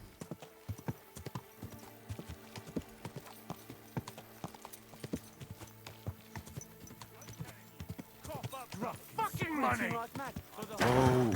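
Horse hooves clip-clop in a medieval role-playing game as the rider slows near an inn and trough, a steady walking rhythm of close hoofbeats, followed by a few brief whinny-like calls and bursts of louder activity at the end.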